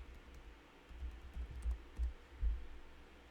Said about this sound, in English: So you got to go to Google Chrome and you want to type in MetaMask.